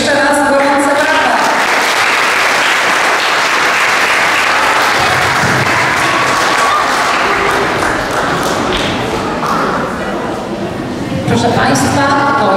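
A school audience applauds warmly at an eighth-grade graduation farewell, sustained clapping from a full hall with a few louder taps and thumps, while a voice and faint musical tones sit under it at the start and end.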